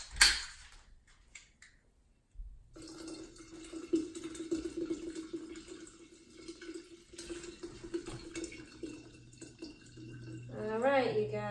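Carbonated water from a can is poured into a vase holding marimo moss balls, giving a steady close trickle with fizzing and splashing, then gurgling near the end, while a person speaks over it.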